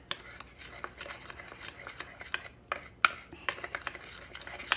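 Dry ingredients for an oat batter, salt, baking soda and cinnamon, stirred in a bowl, with brisk scraping and clinking of a utensil against the dish in an uneven rhythm.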